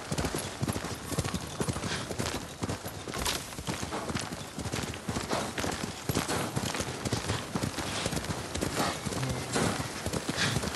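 Horse hooves clip-clop in Ghost of Tsushima, a fast, steady run of close, crisp strikes that continues throughout, with occasional faint game noise but no talking.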